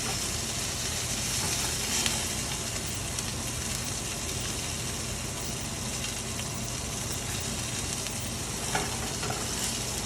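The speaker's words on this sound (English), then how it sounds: "especially since I'm letting them sit in here in the pan and get a nice sear" Filet steaks sear in a hot pan, giving a loud, continuous hiss and crackle that holds steady throughout, close up with no talking.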